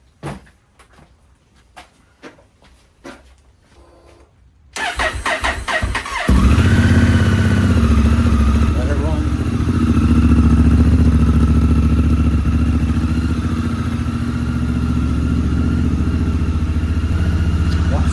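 A Honda Africa Twin motorcycle engine, warming up, starts after several seconds of quiet clatter and handling noises, then settles into a loud, steady close-up idle rumble that holds to the end.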